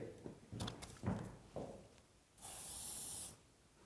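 Hair spray hisses from a can onto styled hair in one sustained burst of about a second, after some quieter rustling and handling, with no talking.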